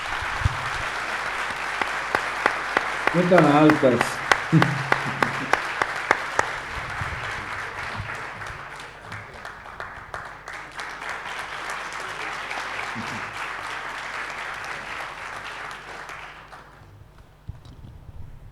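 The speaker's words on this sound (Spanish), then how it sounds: "así que un aplauso, un agradecimiento." Sustained audience applause at the Encuentro Buenos Aires 2025 conversatorio, thanking a guest connected from Italy. It runs long and even, with a brief voice near the start, then thins and fades out at the end.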